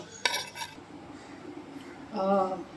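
Roasted semolina for fenugreek laddoos is tipped from a pan into a vessel: a short double scrape of metal and grains, then a low hush, and a voice speaks briefly near the end.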